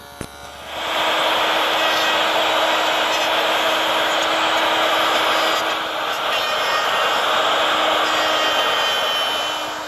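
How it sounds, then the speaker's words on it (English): A table saw fitted with a stacked dado head set to a quarter inch cuts a groove in wood, a loud steady whine that starts abruptly after a brief click and holds evenly without talk. "with the stacked dado head reduced to 1/4 inch in width, I can run the groove for the bottom"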